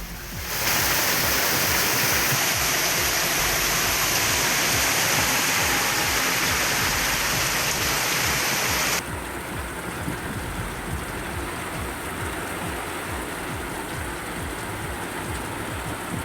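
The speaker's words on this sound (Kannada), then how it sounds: "ಯಲ್ಲಾಪುರ ತಾಲೂಕಿನ ಅರ್ಧ ಗಂಟೆಗೂ ಹೆಚ್ಚಿನ ಕಾಲ ಮಳೆ ಸುರಿದಿದ್ದು ಜನಜೀವನ ಅಸ್ತವ್ಯಸ್ತಗೊಂಡಿದೆ" Heavy rain pours down steadily in Yellapur taluk during a thunderstorm, a loud dense broadband roar that drops slightly in level partway through and continues without talk.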